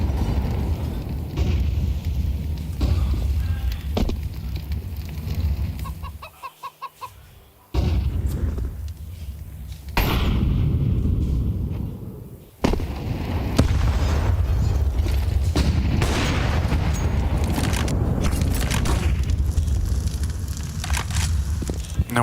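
Grenades blast on the B site in a Counter-Strike match at IEM Cologne 2024: heavy booms and crunching bursts break through dense game noise, with several sharp drop-outs and loud re-entries.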